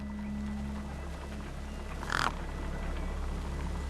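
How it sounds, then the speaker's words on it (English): Birds feast in the video game Beyond a Steel Sky, a single short harsh crow-like caw rising over a steady low hum of game ambience, moderately loud and otherwise quiet. "No way I was going to get between those birds and their feast."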